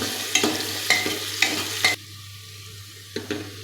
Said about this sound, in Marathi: आपल्याला हे मिडियम गॅसवरती कांदा लसूण थोडासा लालसर होईपर्यंत परतून घ्यायचा आहे